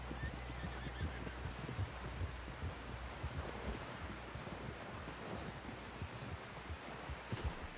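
A horse in Red Dead Redemption 2, heard as a whinny and soft clip-clop hooves over a steady bed of wind and rustling leaves, fairly faint throughout.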